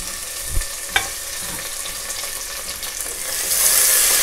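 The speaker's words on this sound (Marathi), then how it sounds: "तर कांदा परतून घेऊया" Chopped onion sizzles and fries in a pan for a prawn rice dish, with tomatoes to follow. The steady frying hiss carries a couple of knocks of stirring and swells slightly toward the end.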